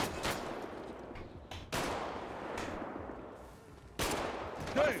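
Gunfire in the video game GTA 5 during a roleplay car meet: three sharp broadband shots spaced a couple of seconds apart, moderately loud over a constant background rumble of noise.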